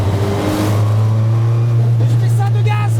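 A Citroën Xsara WRC rally car with a big turbo revs loudly up close, a deep steady engine drone with rising whine over it, while a person speaks over the noise.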